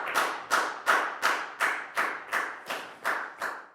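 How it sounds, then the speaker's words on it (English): Students in a primary-school maths classroom clap in about ten even, evenly spaced bursts, each a sharp slap that quickly fades, sounding like a small group applauding together in rhythm. "High five and a big round of applause for Dan, please, guys."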